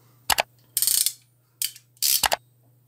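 Ratchet crimping tool squeezing a cable lug, heard as bursts of close, sharp ratcheting clicks in four separate groups with quiet gaps between them, no talk.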